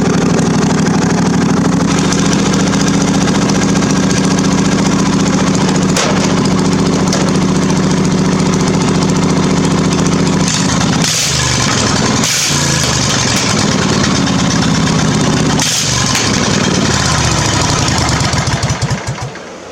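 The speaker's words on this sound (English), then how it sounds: "So now that this mower runs" A cheap mud mower engine runs loud and close, a steady rough drone throughout that dips briefly a few times before slowly easing off at the end.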